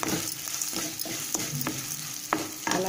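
Golden-brown onions with turmeric sizzle in a pan while a utensil scrapes and stirs them in several distinct strokes, a steady frying hiss underneath, close and clear with no talking.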